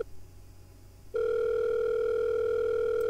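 In The Letter horror game, a telephone ringing tone starts after a second of quiet hiss, then holds as a loud, steady, unbroken electronic tone until the end.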